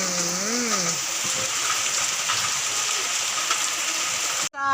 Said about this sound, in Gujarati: વરસાદ પડે છે તો ઠંડક લાગે છે